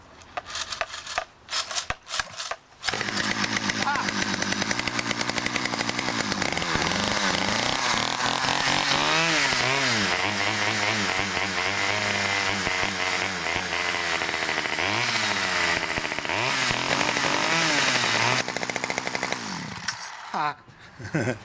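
A Stihl 009L chainsaw with a faulty recoil starter gives a few short pull-start bursts, then fires and runs loud and close for about seventeen seconds, revving and wavering before cutting off.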